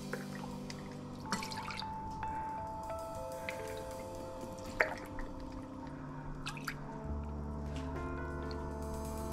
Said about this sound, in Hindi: पौना कप पड़ा है सिरका